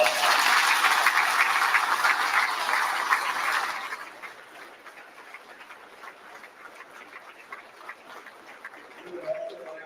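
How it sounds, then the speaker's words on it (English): Applause at a school Veterans Day program fills the first few seconds with dense clapping, then fades to a low murmur of crowd noise and a few scattered claps. "We can give them all a big round of applause."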